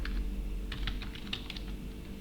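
Rapid keystrokes on a computer keyboard, typed in quick uneven bursts close by, with a steady low hum beneath and no voices.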